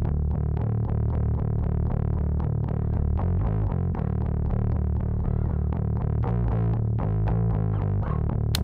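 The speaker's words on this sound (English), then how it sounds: "All the distortion sound is coming from the odd order harmonics on the GBQ, which is really cool on bass" A bass guitar, heavily distorted through a Joe Meek gbQ preamp, plays a riff with gritty odd-order harmonic crunch, loud and dense with steady rhythmic notes and no voices.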